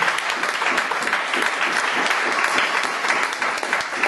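A church congregation applauds steadily throughout a worship service, a dense, continuous wash of clapping with no pauses and no voices standing out above it.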